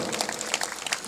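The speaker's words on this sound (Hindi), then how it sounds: "जहां ताली बजाने का अवसर आए, थोड़ा दमदारी से बजाना" Audience clapping at a Hindi religious discourse, a short burst of steady, dense applause from a seated crowd with no talk over it.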